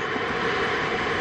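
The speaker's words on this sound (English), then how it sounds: "The Super Dracos have ignited and are pushing the Crew Dragon off the pad" SpaceX Crew Dragon SuperDraco abort engines fire on the pad during a launch abort system test, a constant broad roaring rush that stays loud and even throughout with no speech.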